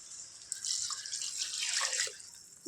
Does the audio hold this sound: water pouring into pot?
yes